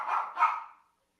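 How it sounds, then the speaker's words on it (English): Casper, a guard dog, gives two quick, loud barks close by, the second rising just after the first, then falls silent. "dog's getting mad about something"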